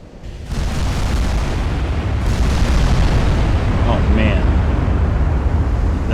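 Heavy 20-inch naval guns of a battleship fire in Ultimate Admiral: Dreadnoughts, a sustained rumbling boom that fills the whole stretch, with a second loud onset partway through and a few faint higher tones near the end.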